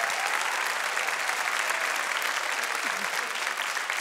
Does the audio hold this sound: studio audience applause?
yes